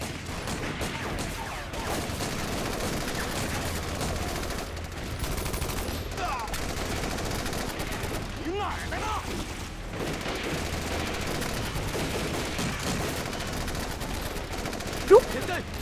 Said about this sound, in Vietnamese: Xạ thủ bắn tỉa. Sao ở đây lại có bắn tỉa?